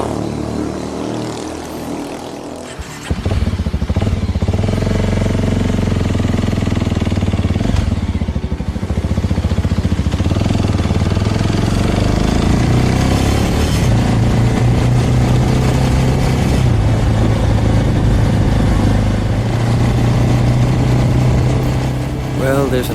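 A small motorcycle riding along a road in Sulawesi, its engine droning loud and steady close by with shifting pitch as it moves, starting after a brief quieter opening, with wind rumble throughout.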